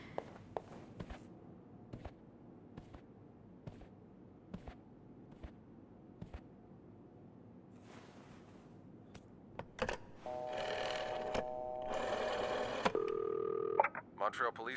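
A telephone is dialed at a front desk. Soft, evenly spaced footsteps come first, then a stretch of electronic dial tones and beeps rises loudly over a quiet room.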